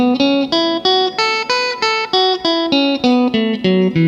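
A melodic instrument plays a major pentatonic scale, around fourteen bright, sustained notes stepping up and then back down in an even, steady rhythm, close and loud.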